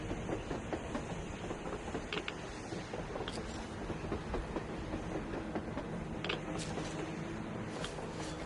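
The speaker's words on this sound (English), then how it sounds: "A train! A damn train on the surface!" A video game train rumbles along steadily with a continuous rolling roar and occasional metallic squeals and clicks, loud and close throughout.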